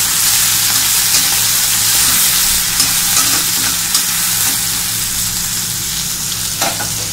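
Bitter gourd and shrimp fry steadily in a pan, a loud, continuous hiss and crackle with a few faint pops and no talking.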